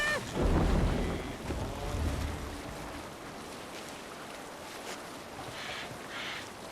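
A sailing ship under sail in Assassin's Creed Valhalla, with wind and waves washing past the hull and a louder surge of water and rushing air early on that settles into steady sea ambience.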